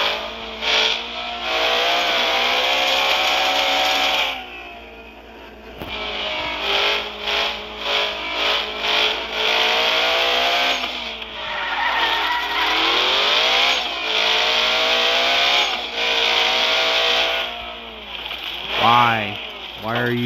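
El Camino spinning its wheels on dirt, the engine revving hard in repeated surges with the tires slipping and skidding, loud and close, while a voice talks over it.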